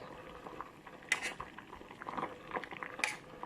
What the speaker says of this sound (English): Right guys, you can see it boiling.